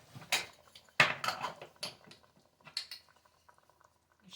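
An aluminum gravy shaker holding flour and water is shaken close by in a home kitchen, giving irregular rattling, sloshing bursts that fade into a few lighter knocks.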